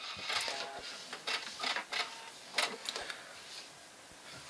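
A sewing machine backstitches to secure the final seam on a fabric proofing towel for rising yeast dough, giving short, fairly quiet bursts of mechanical stitching with brief stops between them.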